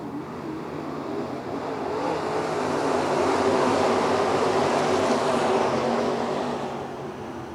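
Race cars roar together at Lernerville Speedway on a lap 8 restart, a dense sustained engine drone swelling louder through the middle and easing slightly at the end, with no voices.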